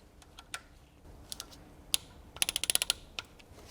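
A torque wrench tightens camshaft bolts on a BMW E46 330i, giving quiet, sharp metallic ticks, scattered at first and then a quick run of about eight clicks near the end, close by with no talk.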